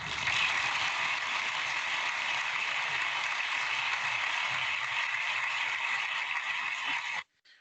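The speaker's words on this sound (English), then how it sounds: "Applause." Canned applause sound effect cued for a correct answer in an English conversation class, a steady dense wash of clapping hands heard alone for about seven seconds before cutting off abruptly.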